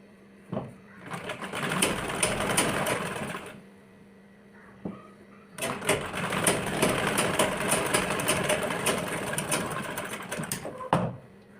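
A close sewing machine stitching a blouse runs in two sustained bursts, a shorter one then a longer one of about six seconds, steady and mechanical with no talk over it.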